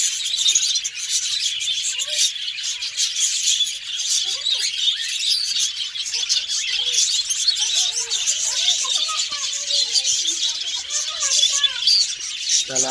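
Budgerigars and cockatiels chirping in a home colony: a constant dense chatter of high twittering and squeaky calls, close by and fairly loud throughout.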